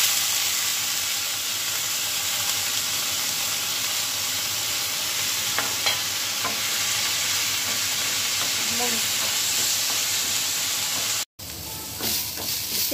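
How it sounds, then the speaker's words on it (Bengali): Plenty of chopped onion frying in a little oil, a steady close hiss and crackle throughout, cut by a brief drop-out near the end before the sizzle resumes. "তো এইবারে আমি দিয়ে দেবো এই যে পেঁয়াজ কুচি, বেশ অনেকটা পরিমাণ পেঁয়াজ কুচি।"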